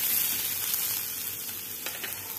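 Chopped capsicum frying in a pan gives off a soft, steady hiss that stays even and fairly quiet throughout, with a faint crackle or two near the end.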